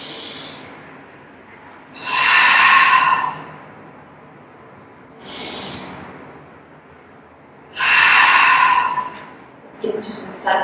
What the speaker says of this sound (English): 2 more good deep breaths